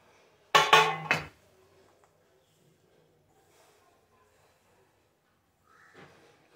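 A ladle scrapes and knocks through a roasted peanut and jaggery ladoo mixture in a pan, one short burst of clattering metal contact near the start, then near silence with a faint rustle at the end.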